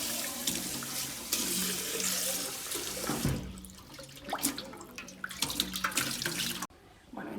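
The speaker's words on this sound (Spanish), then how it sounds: "Posteriormente lo voy a enjuagar y a secarlo con papel" Tap water runs steadily as a copper pot is rinsed in a sink, with a shift in the flow partway through, brief knocks of the pot, and a sudden drop near the end.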